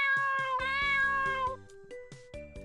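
Cat meows in a retro RPG Maker game, several repeated tonal mews layered over looping chiptune-style background music, clear and close with no talking.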